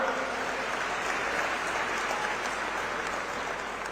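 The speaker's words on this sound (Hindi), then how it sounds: "इनके लिए तालियां बजा सकते हैं आप" An audience applauds steadily at a political rally in Kawardha, a dense, even wash of many hands clapping for the full few seconds without a break.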